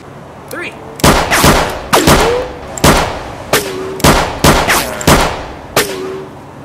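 Gunshots fired in a video game duel, about nine sharp loud shots in an uneven rapid series, each with a short ringing tail, with faint talk underneath.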